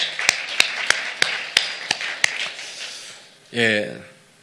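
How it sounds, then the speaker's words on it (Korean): A church congregation claps in unison, about seven sharp, evenly spaced claps at a brisk rhythm, followed by a short spoken voice. "하나님께 박수를"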